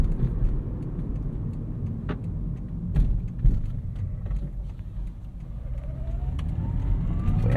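A 2003 Lexus IS300 with a manual gearbox drives on performance tires, giving a steady engine and road drone with faint tire noise and a rising note near the end, without talk.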